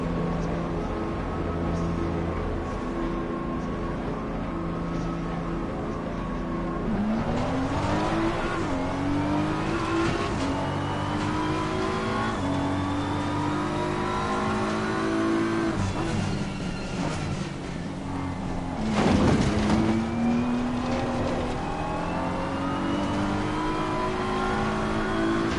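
Race cars lapping Imola in an endurance racing sim, engines revving steadily through gear changes with sharp throttle blips and downshifts, rivals' engines passing close by for the whole stretch.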